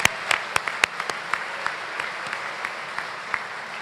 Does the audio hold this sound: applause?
yes